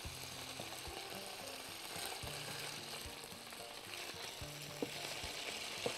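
Onions frying in a pan for a Persian rice cake, with a steady, fairly quiet sizzle and crackle beneath a background hum of music, plus a few light scrapes toward the end.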